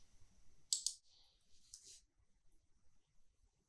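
A few sharp computer mouse clicks on a search button in library cataloguing software, close and quiet against near silence, with a small burst of light clicking a moment later.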